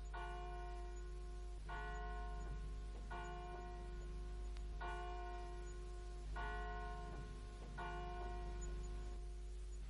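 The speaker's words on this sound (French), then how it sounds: "Mais qu'ont-elles donc à sonner tout le temps, ces cloches?" Church bells ring in repeated, evenly spaced peals, each strike ringing out with a sustained metallic hum over a steady low drone.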